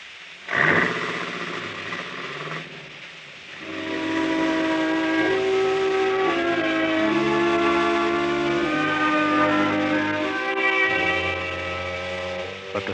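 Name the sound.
factory whistle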